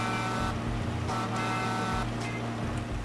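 A tractor or farm vehicle horn in Landwirtschafts-Simulator 15, a few short toots with a steady tonal buzz layered over a running engine drone, fairly close and loud, with no speech.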